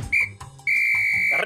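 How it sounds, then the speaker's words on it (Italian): Referee's triple final whistle at a football match heard over a television broadcast: two short shrill blasts followed by a longer sustained one, loud and clear over low background noise. "Triplice fischio."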